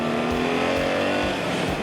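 A 145-horsepower 2024 BMW R 1300 GS motorcycle engine revs and pulls hard, a steady rising drone with rhythmic low pulses, close and loud.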